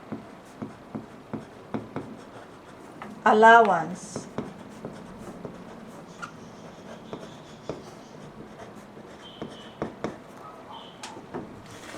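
Pen or marker scratching across pattern paper while drafting an extra-small back bodice block, in short repeated strokes with a brief louder scrape, and a person talking over the writing.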